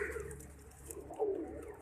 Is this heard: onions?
no